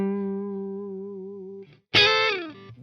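An electric guitar through a Throne of Tone dual-sided overdrive pedal rings out a sustained, slightly wavering note, cuts off, then hits a bright, snarling distorted chord that decays, loud and alone with no talking.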